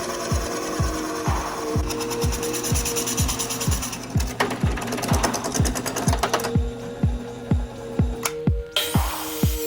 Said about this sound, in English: By using a drilling machine, it can be processed into a beautiful left-right symmetry.